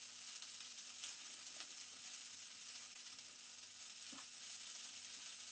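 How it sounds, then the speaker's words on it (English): Korean fried rice (bokkeumbap) sizzles steadily in a hot pan, a dense continuous crackle of frying with faint stirring clicks and no talking. "Mix this in whilst we're still frying this."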